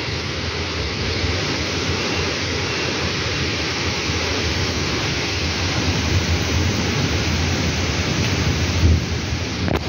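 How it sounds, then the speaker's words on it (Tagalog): Heavy typhoon rain roars continuously in Hong Kong, with gusty wind adding a broad rushing hiss and low rumble; no voices, just the storm throughout. "Yung ulan gumaganong-ganon. Lakas ng hangin."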